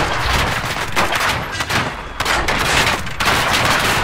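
Heavy, sustained video game gunfire roars almost continuously, loud and close, with a few brief dips between long automatic volleys.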